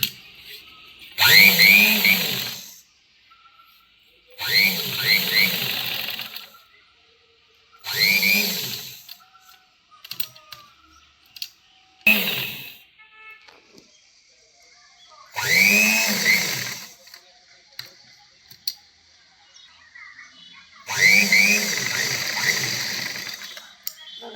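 A sewing machine stitches a boat-neck princess blouse in five or six separate runs, each a loud, rapid mechanical whir lasting a couple of seconds, broken by quiet pauses.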